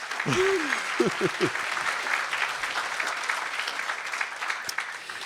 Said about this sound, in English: Let's give Gary Grasso a round of applause.